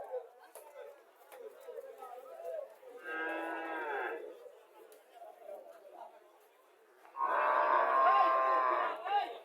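A local dairy cow at a cattle market in Chauddagram, Comilla, moos twice with long, loud lows amid murmuring crowd chatter and nearby talk.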